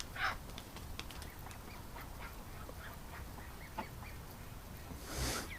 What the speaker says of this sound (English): What a screwed up looking duck.